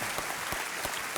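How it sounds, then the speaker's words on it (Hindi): Studio audience applause on a Hindi television quiz show, a dense steady wash of clapping with a few sharper claps standing out, loud and continuous with no voices over it. "इनके लिए तालियां बज जानी चाहिए"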